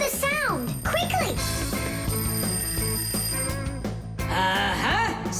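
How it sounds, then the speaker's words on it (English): A cartoon alarm clock rings in a kids' animated series, a bright jangling bell rising and falling repeatedly over background music, with character voices chiming in. "Simka, I think I can hear my alarm ringing"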